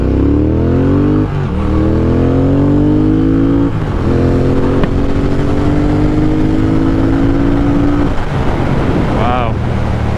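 A Triumph Thruxton 1200 motorcycle, fitted with a 525 chain and 37-tooth sprocket, accelerates hard from a launch, its loud engine climbing in pitch through several gear changes with wind noise buffeting the microphone.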